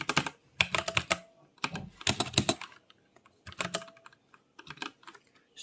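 Someone types on a computer keyboard and presses enter while entering a C++ bank savings program, in irregular bursts of rapid, close keystrokes separated by short pauses.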